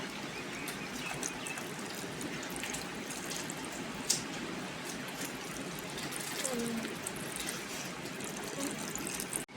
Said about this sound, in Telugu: ఇప్పుడైతే పాలు పోసుకోవాలా